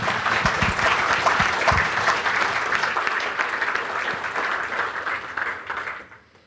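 A conference audience applauds a farm finance panel with sustained, even clapping and a few sharp individual claps near the front early on, holding for about six seconds before fading quickly to near silence.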